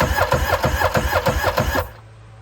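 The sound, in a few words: cranking a 1996 Yamaha Waverunner III engine, throttle wide open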